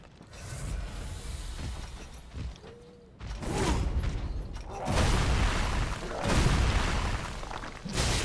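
Bomb blasts blowing open a box in Dark Souls 3 come as several loud broadband bursts at intervals over a mechanical, creaking game background.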